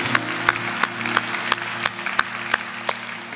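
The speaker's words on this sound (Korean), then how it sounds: "주님께 모든 영광의 박수 올려드립니다." A congregation at a Friday worship service claps to the Lord, rhythmic accented clapping over sustained music, with regular beats standing out from a lighter wash of hands.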